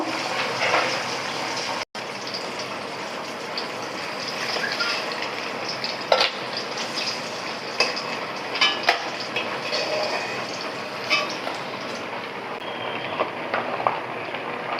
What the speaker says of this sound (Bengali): এখন হচ্ছে পেঁয়াজ এবং রসুনটাকে ব্রাউন কালার করে ভেজে তারপর আমি এবার তুলে নেব